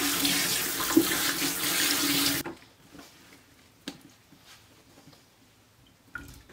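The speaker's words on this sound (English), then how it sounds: "I just put a few drops and then I fill a sink" Water gushing from a tap into a sink to wash silicone lure molds, a loud steady rush for about two seconds that cuts off, followed by quiet drips and small clinks.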